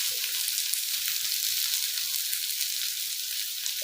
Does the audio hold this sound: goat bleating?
no